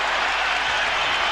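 A basketball arena crowd roars during an NBA Finals game, the Nets facing the Spurs in New Jersey, a dense steady wash of cheering and applause filling the whole moment without a break.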